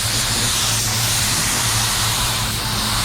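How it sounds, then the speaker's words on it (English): Spray gun hissing steadily as it lays down metallic black water-based PPG paint, a loud continuous airy spray held close with no pauses or talk. "So pay attention to the way that I'm spraying."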